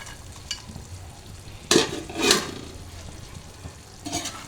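Cashew salad with chicken, raisins and sauce gets mixed in a bowl, a few soft scraping and wet stirring strokes, two louder bursts in the middle and another near the end, fairly close, no talking.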